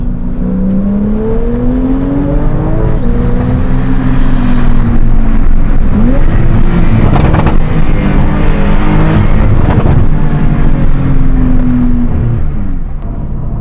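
A Stage 2 tuned Porsche Carrera S, 450 hp, revs hard and loud, rising through gears with a roaring, climbing pitch and brief dips between shifts, close by and continuous.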